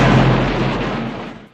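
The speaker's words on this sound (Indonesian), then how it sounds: "Mike melemparkan bom ke dalam terowongan dan meledakkan kabin itu." A cabin blown apart by a bomb thrown into a tunnel, a loud close boom with a dense rumbling roar that fades out over a second and a half.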